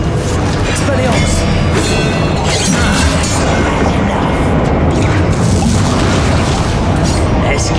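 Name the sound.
spell combat explosions in Hogwarts Legacy video game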